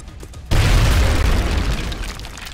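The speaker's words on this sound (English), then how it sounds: "Throwing grenade!" A grenade explodes in a video game as a sudden deep boom that rolls into a long rumbling roar and slowly fades, loud and alone.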